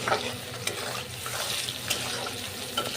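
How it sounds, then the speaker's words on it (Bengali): Onion, green chilli and chopped tomato stir-fried with spices in a pan for a prawn and taro curry, with steady close sizzling and frying hiss and a few louder stirring scrapes and knocks, no talking. "ভালো করে কিন্তু কষিয়ে নিতে হবে সব মশলা"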